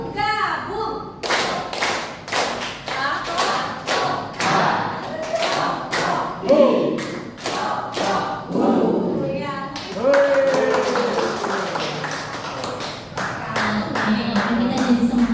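Rhythmic combined hand-clapping pattern by a group in a training-session classroom, sharp claps in patterned bursts of three alternating with quicker runs, close and loud, with an instructor's voice calling out between them.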